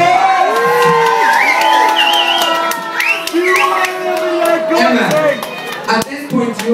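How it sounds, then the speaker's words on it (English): Game show audience cheering, whooping and clapping for a contestant named Emma on Deal or No Deal, loud and close, with excited shouting voices dominating over the clapping. "give her a round of applause!"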